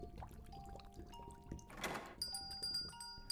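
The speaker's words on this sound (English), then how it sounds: "Doorbell." A bright electronic doorbell chime rings out with sustained high tones after a brief whooshing burst and scattered clunks.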